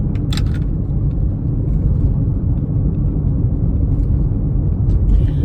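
Car driving on the road, heard from inside the cabin as a steady, loud low rumble of engine and tyre noise that holds constant throughout, with faint brief ticks above it.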